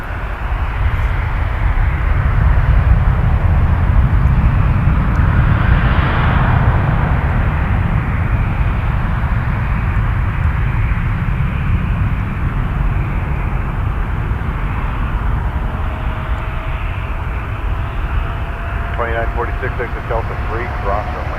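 Airliner taking off from runway 05 at Toronto Pearson, a steady, loud broadband engine roar that holds throughout, with a faint tone and crackle of radio chatter near the end.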